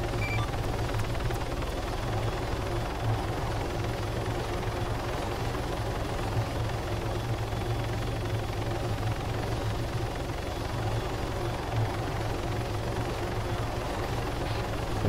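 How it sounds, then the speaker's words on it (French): A helicopter drones steadily and loudly throughout, a continuous low rotor and engine roar with no break or voices over it, during an outdoor airsoft operation. "au moins 50 mètres d'hélicoptère quand on débarque"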